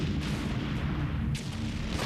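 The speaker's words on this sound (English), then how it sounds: "5 hours to lay down an artillery barrage delivered by 3 batteries of guns." An artillery barrage from three batteries of guns forms a dense, continuous roar of overlapping booms and rumbling that stays loud throughout, with no distinct pauses.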